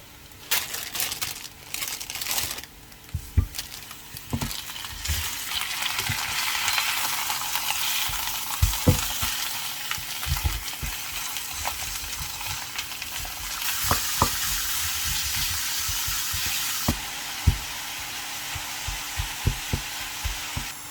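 Steaks and browning onions fry in a pan with a steady, loud sizzle. Sharp crackles and occasional stirring scrapes rise above the hiss throughout, with no talking.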